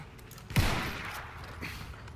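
Gunfire in the video game Battlefield 1, with one sharp close shot followed by a rattling, decaying burst of shots and softer distant firing, all fairly faint.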